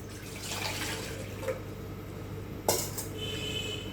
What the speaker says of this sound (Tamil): இப்போ அதில் பாருங்கள் தண்ணி ஊற்ற போகிறேன்